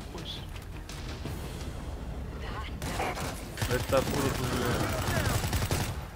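Gunfire in the co-op zombie shooter World War Z on hard challenge mode, dense bursts of rapid automatic shots and volleys that build louder toward the end, with players talking over the shooting.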